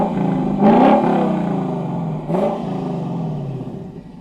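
A Lexus LC500 V8 barks through its quad exhaust pipes in two sharp, loud revs about a second and a half apart, each falling away into a lingering rumbling decay at close range.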